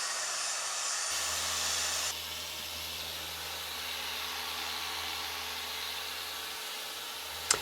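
Machine polisher buffing the paint of a Ford Ranger Wildtrak, a steady close whirring hum with airy hiss that shifts pitch slightly partway through.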